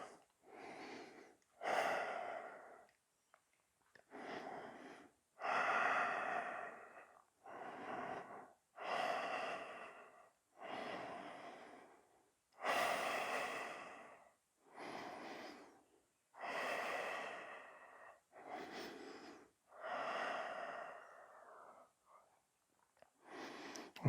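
Heavy, rhythmic breathing from a person doing yoga leg and arm strengthening work, with each breath a separate loud huff or gasp in a steady cycle, close up with no talking.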